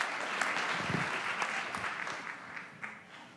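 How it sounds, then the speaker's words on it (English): Audience applause at a Dancing With the Stars hospice charity event, steady clapping from a roomful of people, moderately close and alone, tapering slightly toward the end. "another round of applause for David"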